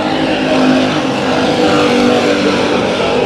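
Race cars roaring through a heat race at Bakersfield Speedway, a loud continuous engine drone from a pack of cars with no gaps or pauses, heard without any talking.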